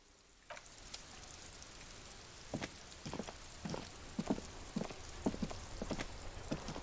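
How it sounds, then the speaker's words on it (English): Steady rain falls in the Disco Elysium video game, a constant wash of drizzle with scattered sharper drops and patters landing on surfaces, fairly close and without speech. "This rain will not let up anytime soon."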